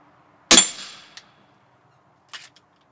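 Single suppressed shot from a Canik TP9 SF pistol with a threaded extended barrel, a sharp bright crack with a short decaying ring, followed by faint metallic clinks of hand cycling the slide.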